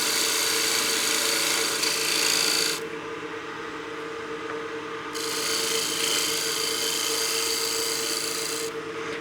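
A wood lathe spins a turned utility box while a tool cuts, giving a loud continuous hum and steady scraping hiss that drops briefly, then resumes and stops again.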